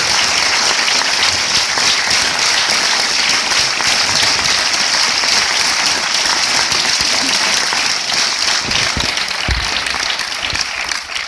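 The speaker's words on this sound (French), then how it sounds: "Vous pouvez l'applaudir très fort" An audience at a film premiere bursts into sustained, loud applause, a dense wash of clapping hands that carries on steadily throughout.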